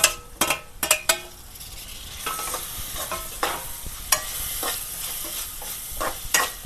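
Chopped tomatoes frying in a pan for a broad bean seed curry, a steady close sizzle punctuated by several sharp stirring scrapes, with no talking.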